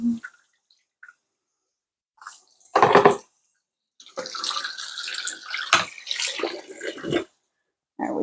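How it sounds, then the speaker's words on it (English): A cutting board used for prepping sausage is rinsed under a running tap in short bursts, with close splashing and dripping water broken by quiet pauses, then a longer stretch of steady washing. "So I'm just going to make sure I've got a really good wash on my cutting board"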